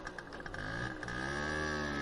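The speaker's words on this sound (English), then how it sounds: "what is not gone and is actually approaching is the sound of a motorcycle" A motorcycle draws closer, its engine a steady, droning whine whose pitch bends and climbs partway through, fairly loud and continuous with no voices.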